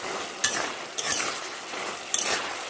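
Chopped coriander leaves being stirred into a cauliflower and mixed vegetable curry in a pan, giving a steady scraping, sizzling stir with a few sharper spoon strokes against the metal, close and fairly loud, with no talking.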